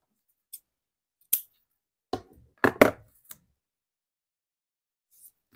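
Scissors snip crochet yarn while a crochet square is being finished, giving a few sharp, close clicks and cuts spaced over several seconds with quiet gaps between them.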